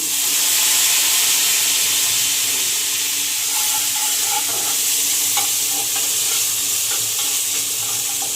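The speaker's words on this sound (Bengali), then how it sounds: "এই যে কারিয়া পাতা ফোড়ন" Curry leaves sizzle in hot oil during tempering, giving a steady, close, full hiss with faint crackles throughout and no talking.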